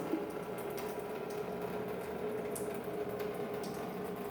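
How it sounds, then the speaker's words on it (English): Water streams steadily from a spigot hole in the side of a container into a bucket, a continuous close hiss and splash with no pauses and no voices. "I constantly have to move that bucket in order to make sure I'm catching all of the water"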